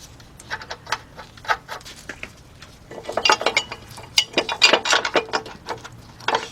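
Two 17mm bolts and a 17mm nut are hand-started onto brackets beneath a 2006 Kia Sportage 2.7 engine bay, giving light metallic clinks and rattles that grow busier and louder toward the end, with no talking.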